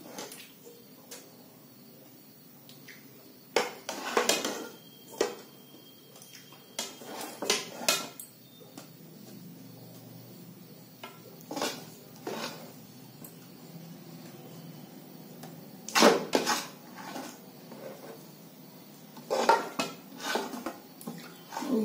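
Steel plates and utensils clink and clatter in scattered bursts while til-gud laddus are set out on a greased thali in a home kitchen, with quiet gaps between the clanks.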